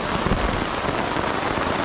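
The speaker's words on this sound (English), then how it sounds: "We're dealing with pretty heavy rain right now" Heavy rain pounding on a tarp at a campsite, a dense steady roar of drops close overhead, loud and unbroken throughout.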